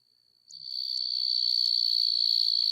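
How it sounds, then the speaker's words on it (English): A katydid calls with a steady, high-pitched continuous buzz that starts abruptly and holds loud and close throughout, with no voices. "Nope. Katydid."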